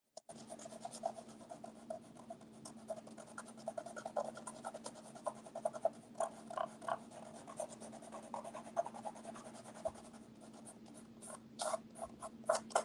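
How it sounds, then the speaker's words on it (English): A pastel stick dragging and rubbing across gridded paper during portrait drawing, a soft continuous scratchy rasp made of quick repeated strokes, close but quiet over a low steady hum, with no talking. "You can kind of hear the drag of it on the paper there on the grid."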